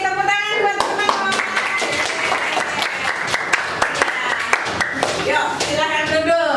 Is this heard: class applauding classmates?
yes